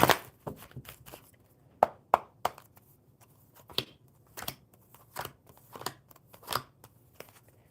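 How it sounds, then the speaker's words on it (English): A deck of cards being shuffled during a live tarot-style card reading, heard as a run of quick papery riffles and snaps in irregular bursts, fairly close and quiet, with no talking. "All right, one more good shuffle."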